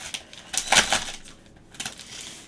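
A plastic package of silkscreen stencils being opened up close, with bursts of crinkling and crackling plastic in two main rounds separated by a brief pause.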